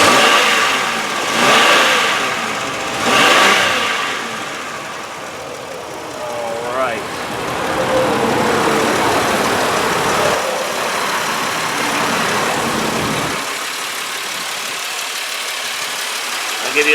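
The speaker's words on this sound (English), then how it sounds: "I'll just be quiet now and let you listen to the motor." A 2001 Chevrolet Impala engine idles steadily up close, revving a couple of times early on before settling into an even running drone.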